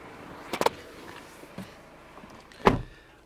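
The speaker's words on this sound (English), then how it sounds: "Electric and folding mirrors." Electric folding door mirrors on a Volvo S90 2.0 D4 Momentum Pro automatic saloon, heard as two short mechanical clunks of the motor moving and locking, separated by a quiet pause and a faint click.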